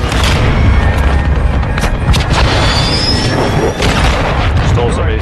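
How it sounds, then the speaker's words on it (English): A cruise missile strike in a first-person shooter video game, heard as a loud, sustained rumbling blast with deep low-end booms and crashing debris filling the whole stretch, with gunfire-like cracks mixed in. "Cruise missile time."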